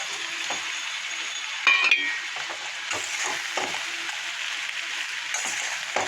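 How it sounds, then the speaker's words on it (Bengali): Fried bata fish pieces go into a pan of sizzling onion-tomato spice masala, a loud steady hiss of frying punctuated by clinks and scrapes of a utensil against the pan. "এখানে ভাজা মাছগুলো এখন আমি দিয়ে দেবো"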